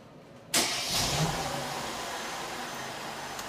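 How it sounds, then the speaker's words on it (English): A 2013 Mercedes-Benz GLK engine turns over and catches under remote start, a sharp onset followed by a steady, fairly close idle that settles and holds without any talking. "The system starts the vehicle by pressing lock 3 times."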